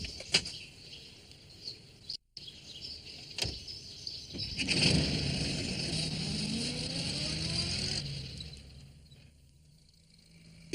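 Postman Pat's van drives along a sunny country road, a motor that swells up and then fades with rising engine tones and scattered bird chirps, a brief silent gap and sharp clicks near the start.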